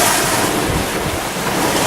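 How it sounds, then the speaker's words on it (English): Sea waves wash and roar at Leigh on Sea under a blustery wind that buffets the microphone, a loud, continuous rush of surf and gusting air. "the wind is a little bit more boisterous than some nights, so I'm standing in the shelter watching the waves"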